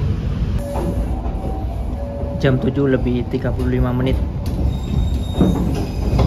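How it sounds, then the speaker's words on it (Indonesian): The Pandalungan passenger train rolls into Probolinggo station, making a steady rumble with metallic wheel squeal and screech tones, all heard under someone talking throughout. "kereta api Pandalungan masuk di stasiun Probolinggo"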